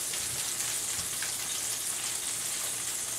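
A stuffed cheeseburger sizzles in a frying pan, giving a steady, fairly loud hiss and crackle of frying fat that holds without a break.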